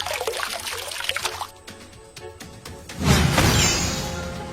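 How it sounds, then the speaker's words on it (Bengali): A burst of liquid splashing and sprinkling, standing in for enchanted water thrown over someone, comes in loud and close after quieter watery dribbles and clicks, then trails off into a hissing spray. "এরপর কাঠুরিয়া তার বাবার দেওয়া মন্ত্রপুত জল হারানের ওপর ছিটিয়ে দেয়।"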